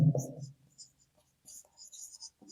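Pen or chalk scratching out a math solution for a class 10 quadratic equation exercise, short faint strokes in quick bursts right after a brief spoken phrase.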